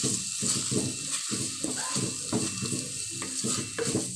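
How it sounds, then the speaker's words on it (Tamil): Chillies sizzle and fry in a hot pan while being stirred for a fenugreek curry, with a steady crackling hiss broken by the scrape of a spoon against the pan, close up and with no talking. "இதிலே போட்டு அப்படியே வதக்குங்க."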